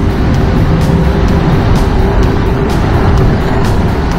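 A Honda CB 750 Seven Fifty motorcycle engine roars loud and close while riding, a steady throbbing drone mixed with wind rush.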